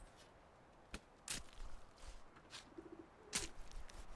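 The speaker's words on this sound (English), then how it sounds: "There's pigeons all over the stinking place." Pigeon cooing in the medieval survival game Medieval Dynasty, a brief low coo heard once amid sparse sharp thwacks and soft ambient game sounds at a quiet level.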